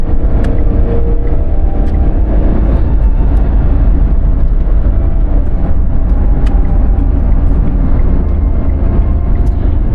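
A Renault Triber runs flat out in fifth gear on a busy road, its engine and road roar loud, steady and constant from inside the cabin, with no talk.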